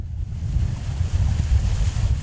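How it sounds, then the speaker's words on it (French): A gust of wind at sea while kitesurfing, heavy low buffeting of wind on the microphone over rushing water, loud and close for a couple of seconds with no speech. "Voilà, il y a une rafale qui arrive."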